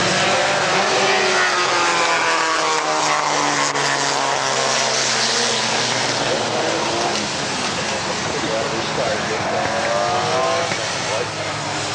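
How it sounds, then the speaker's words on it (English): A classic race car at a Mille Miglia-style event at Laguna Seca roars past with a loud, sustained engine note whose pitch sweeps as it passes, filling the whole stretch. "The lead car is coming down off the hill now."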